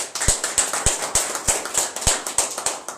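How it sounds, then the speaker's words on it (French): Rhythmic clapping at an MRC political rally in Maroua welcomes speaker Yerima Alilou Daïrou: a crowd claps together in sharp, evenly spaced beats about three per second, close and fairly loud. "que vous allez applaudir s'il vous plaît"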